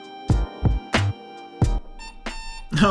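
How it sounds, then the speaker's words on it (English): An alarm clock fitted with a pepper-spray add-on rings in a run of short, loud beeps, about six spaced bursts close up against a quiet room. "Your alarm clock is ringing."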